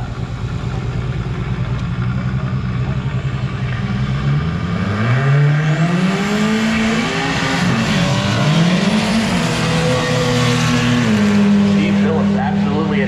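Volkswagen-powered drag racing cars, among them a 2300 cc VW dragster, launch at the Bugorama 90 drag race in a loud, continuous engine roar that climbs and falls in pitch as they rev and accelerate away.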